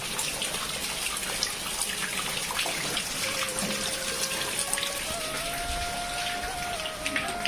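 Steady rain pours down in a constant dense patter, loud and unbroken throughout, with no voices.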